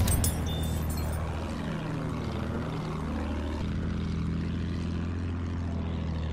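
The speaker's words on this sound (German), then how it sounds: "Flugzeug, seht ihr das?" Attack plane in the video game Battlefield 1, a droning propeller engine that sweeps and shifts in pitch as it flies past, steady and moderately loud with no talk.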